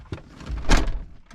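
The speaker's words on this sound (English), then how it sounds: "shut the door again" A Mercedes car door, on a W201, W126 or W124 type, being shut, giving a single dull thunk close by amid quiet background noise.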